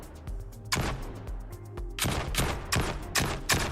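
Gunshots in a video game, one near blast followed by a rapid cluster of loud, punchy reports, heard alone without talking.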